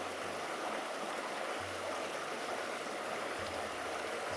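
A mountain creek on Pelion in Greece runs with a steady, dense rushing and gurgling of water, continuous and fairly close, with no voices.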